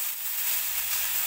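Moth bean dal and onion fry in a pan with a steady, close, bright sizzle that holds evenly without a break.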